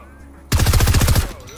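Rapid burst of gunfire in the Fortnite video game, about ten quick loud shots in under a second, bursting from near silence and then dying away.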